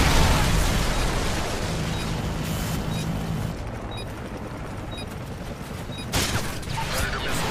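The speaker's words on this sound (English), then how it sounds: "Friendly Predator missile inbound." Predator missile explosions and battle noise in Modern Warfare 3 Demolition multiplayer, a loud dense rumble of blasts and gunfire with a fresh burst near the end and no talking.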